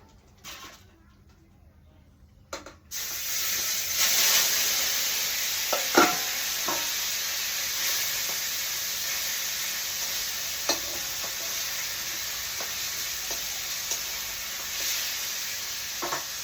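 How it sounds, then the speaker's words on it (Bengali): Fish fry in a wok with a steady sizzle that starts after a quiet opening, joined by occasional clinks and stirring scrapes at a moderate, close level. "এখন আমি মাছগুলো কড়াইতে চড়াই দেবো।"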